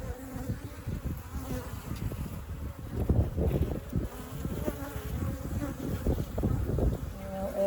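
Africanized honey bees swarm around a water meter box, making a dense, steady buzzing close to the microphone that rises and falls with passing insects, with light wind noise and no talking.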